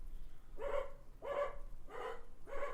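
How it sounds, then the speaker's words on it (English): A dog barks four times in an even rhythm, each bark tonal and moderately loud, heard indoors with only a faint background hum and no speech over it. "I don't know why he's barking."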